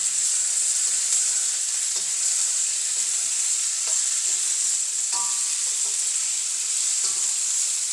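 Eggplant sautés in hot oil for a spicy vegetable gravy, making a constant bright hiss of frying with scattered soft clicks and scrapes of stirring nearby.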